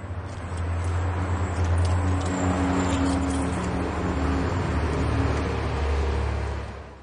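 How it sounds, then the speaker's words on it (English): A pickup truck engine idles and runs steadily with a low rumbling drone, close and continuous for several seconds before easing off at the end. "Pickup truck."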